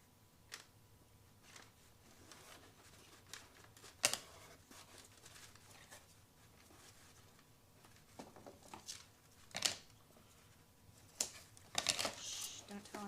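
Scattered sharp snips and crisp clicks come at irregular intervals, with soft rustling and handling noises between them.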